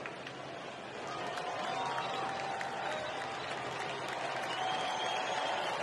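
A baseball crowd at a World Series game in Los Angeles, Red Sox at Dodgers, swelling into a broad roar and scattered clapping that builds after the first second and stays loud, distant and spread out.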